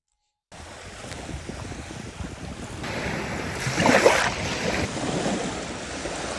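Baltic Sea waves rush onto a beach near Gdańsk, Poland, one surge swelling loudly and then easing, with wind buffeting the microphone throughout.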